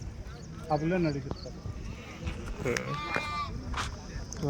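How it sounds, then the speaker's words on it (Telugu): Sheep bleating at a weekly Saturday morning sheep market, several wavering nearby bleats rising over crowd murmur and a voice, with faint background clatter. "మీవేనా గొర్రెలు?"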